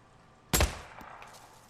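A single suppressed gunshot in the Days Gone video game, a sharp muffled crack with a short decaying tail, moderately loud against quiet background.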